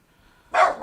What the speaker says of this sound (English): There's Casper going on his barking spree.